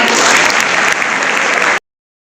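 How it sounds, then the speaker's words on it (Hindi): Students and teachers at a college workshop in Firozabad clap loudly, a dense, close roar of applause that cuts off abruptly after under two seconds. "ताली बजाओ इसके लिए जोरदार।"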